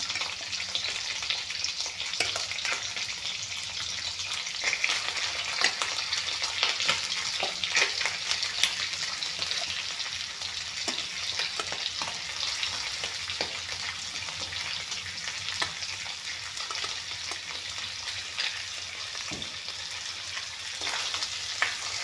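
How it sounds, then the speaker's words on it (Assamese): Fish heads fry in a pan of hot oil, giving a steady close sizzle with occasional stirring scrapes and no talk. "এইখিনি অলপমান ভাজি ল'ম।"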